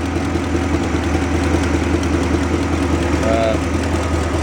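A vintage Ford F1 truck with a 460 engine swap runs steadily at idle, with a loud, constant low engine hum and the whoosh of air blowing from around the fan up close.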